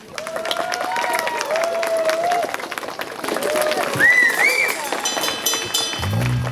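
A crowd at a charity rock concert claps at a moderate, steady level, with voices and whoops scattered through it.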